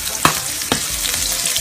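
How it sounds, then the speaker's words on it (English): Onions sizzle and crackle steadily in a hot saucepan, with two sharp clinks or stirs cutting through the frying noise. "just put my onions into the saucepan, frying"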